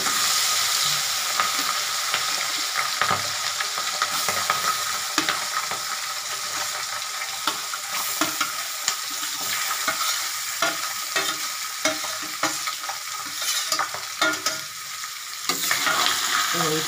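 Kajari fish slides into hot oil in a pan on a gas stove with the flame turned low, crackling and sizzling steadily and close up throughout.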